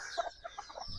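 Native farm chickens and chicks give a rapid run of soft, high clucks and peeps in a brief burst, fairly faint and close, with no voices.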